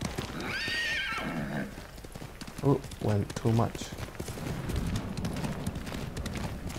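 A horse in the Ghost of Tsushima video game whinnies, followed by a few snorting breaths and hoofbeats. Someone speaks briefly over the game sounds.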